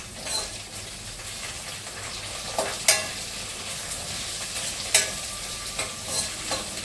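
Duck curry masala sautéing in a pan with ghee, a soft continuous sizzle broken by scraping spatula strokes and occasional sharp clinks, no talk.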